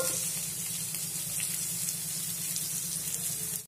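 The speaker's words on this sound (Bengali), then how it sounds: "আমি 1টা শুকনা লঙ্কা দিচ্ছি। একটুখানি ভেজে নেব।" Dried red chilli fries in oil in a pan with potatoes pushed to one side, making a constant, even hiss of close sizzling that cuts off abruptly.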